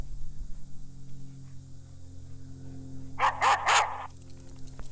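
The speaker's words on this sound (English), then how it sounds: "when you turn the alarm feature on within the app, it's actually going to sound like a dog barking" A HeimVision HM211 outdoor wireless security camera's alarm goes off, playing a recorded dog-bark sound: a quick burst of about four loud, close barks over a steady low hum.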